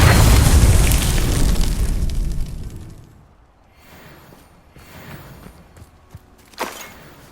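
A loud, booming fire-spell blast from the Hogwarts Legacy video game, an Incendio that erupts at once and rumbles away over a few seconds, followed by softer crackles and one sharp pop.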